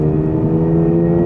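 A 2022 Subaru BRZ engine revs loud and close under hard acceleration in third gear from about 4,000 rpm, a steady droning tone.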